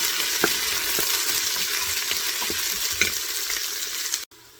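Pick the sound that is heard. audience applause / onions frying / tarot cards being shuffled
onions frying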